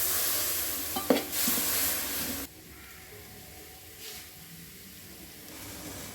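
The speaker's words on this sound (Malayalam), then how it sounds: "ചൂടുവെള്ളം ഇട്ട് കൊടുക്കാം." Hot water poured into sizzling spices for a beef curry gives a loud, close frying hiss that cuts off abruptly to a quieter, softer bubbling simmer, with no talking.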